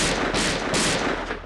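Covering gunfire in The X-Files video game: a quick, loud burst of rapid shots in a tight cluster, close and unaccompanied by talk.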